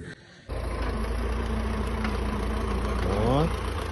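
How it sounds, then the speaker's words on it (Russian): A tractor engine runs steadily while ploughing a garden plot, a loud, close, continuous drone that starts abruptly and rises in pitch near the end. "Вот, трактор нам спахивает."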